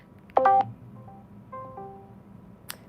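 A phone dials out with a short burst of keypad tones, followed by a few more tones and a brief ring, all fairly quiet and spaced over a few seconds with no talking.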